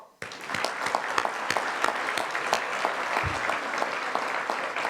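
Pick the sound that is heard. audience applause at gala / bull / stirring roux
audience applause at gala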